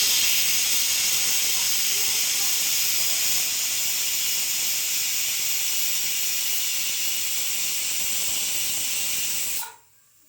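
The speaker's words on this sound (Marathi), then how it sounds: "तर म्हणजे पटापट शिट्ट्या होत आहेत ह्या कुकरच्या" A pressure cooker of Khandeshi khichdi on a gas stove vents steam in a loud, steady hiss that runs unbroken for nearly ten seconds, then cuts off abruptly.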